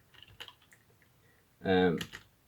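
Someone types a command on a computer keyboard while setting up Ubuntu on a Raspberry Pi. Light, scattered keystroke clicks sound quietly up close, then a short burst of speech breaks in near the end.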